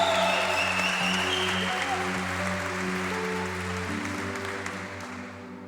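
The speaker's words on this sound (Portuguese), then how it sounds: "Alguém pode aplaudir, gritar, celebrar, dançar," A church congregation at a Sunday celebration service claps and cheers in one loud, continuous wave of applause. A sustained musical drone plays underneath, and the applause eases slightly toward the end.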